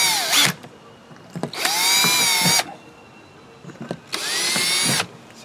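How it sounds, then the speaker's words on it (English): A power drill with a 2mm bit whirs in three short, loud bursts, its high motor whine rising and cutting off, with brief pauses and small clicks between. "I need to drill"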